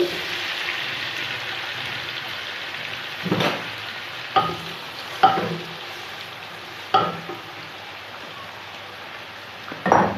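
Tomatoes going into onions frying in oil for chicken biryani: a continuous crackling sizzle punctuated by several louder bursts of spattering as the mixture is stirred, close up and fairly loud.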